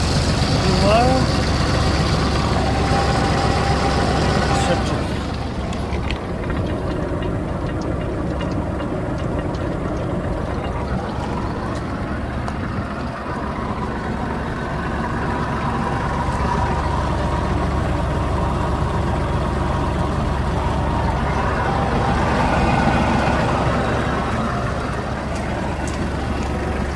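A Kubota GL201 mini tractor engine runs steadily under load in fourth gear at full throttle, a loud, constant low diesel drone, while someone talks over it.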